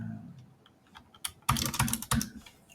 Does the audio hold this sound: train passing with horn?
no